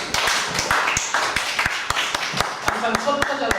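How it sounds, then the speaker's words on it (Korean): A church congregation clapping in a steady, rhythmic beat, sharp distinct claps over background talking, close and moderately loud. "박수로 우리 박수."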